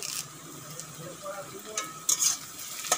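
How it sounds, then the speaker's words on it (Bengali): Curry leaves dropped into hot oil with half-fried onions for a country chicken curry, giving a moderate crackling sizzle with stirring scrapes and a few sharper spatters near the end. "এখন দিয়ে দেবো কিছু কারি পাতা।"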